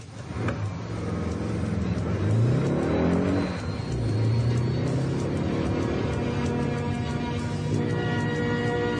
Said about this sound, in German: Mit laufenden Motoren warten sie nebeneinander auf das Startzeichen.